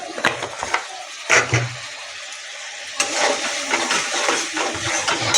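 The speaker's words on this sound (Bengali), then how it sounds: "একটু জল দিয়ে দেব, দিয়ে ভালো করে মশলাটাকে আমি কষে নেব।" Water is poured into a pan of spice paste made with chili and turmeric powder, then a spoon scrapes and stirs it in a few short bursts before a longer sizzling, splashing stretch.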